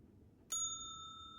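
One sharp strike of a hotel front desk bell in a game, a clear ding that sustains and decays through the rest of the moment, heard alone against faint background hiss.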